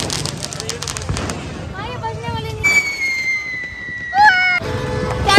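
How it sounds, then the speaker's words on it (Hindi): Diwali firecrackers and rockets in Mumbai burst repeatedly in sharp cracks and pops, with whistling rockets gliding through rising and falling tones, fairly loud and close, while people talk in the background. "पिछले 10 घंटे से पटाखे फोड़ा जा रहा है"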